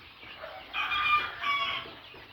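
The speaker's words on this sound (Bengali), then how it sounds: "আপনারা দেখতে পাচ্ছেন অরিজিনাল মিশরীয় ফার্মি মুরগি" One-week-old Egyptian Fayoumi chicks cluck in two short, fairly quiet bursts close by, with soft background noise between them.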